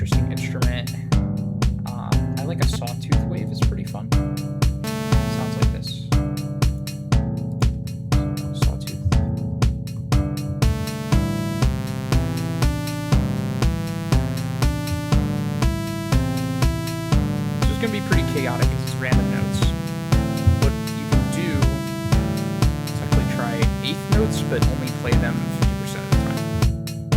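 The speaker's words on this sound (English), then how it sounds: "I like a sawtooth wave. It's pretty fun. It sounds like this." Buzzy sawtooth-wave synthesizer notes hop through random pitches of a scale on a steady quarter-note pulse, bright and harmonically rich, playing continuously and alone for nearly half a minute.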